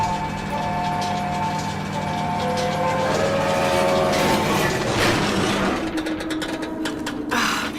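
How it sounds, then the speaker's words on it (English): A jammed elevator mechanism grinds and ratchets in the Tomb Raider (2013) video game, with steady mechanical clanking and gear noise that swells midway and continues with sharp clattering toward the end. "The elevator is jammed."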